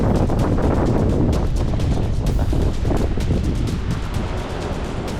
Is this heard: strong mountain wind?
yes